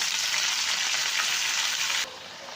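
Chopped leafy greens hitting hot oil in a heated kadai in a village kitchen, a loud steady hiss and sizzle that drops abruptly in level near the end, close up with no talking.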